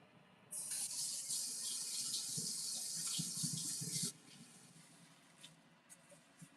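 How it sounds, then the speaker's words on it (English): Hands washed under a running kitchen water tap, a steady bright hiss of flowing water for about three and a half seconds with light splashing beneath, then cutting off to faint clinks in a quiet room. "Let me wash these hands up real fast"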